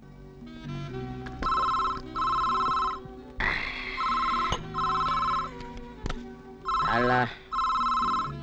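A telephone bell rings in a movie scene, loud repeated electronic trills in regular bursts, while a voice talks between the rings.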